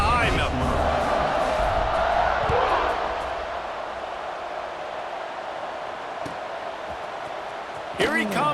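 Stadium crowd roar swells loudly in the College Football 26 video game ahead of a kickoff, a broad steady wash that eases slightly before a sharp burst near the end, with a commentator talking over it.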